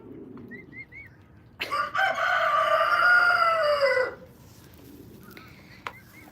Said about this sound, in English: We have a rooster next door who you may have heard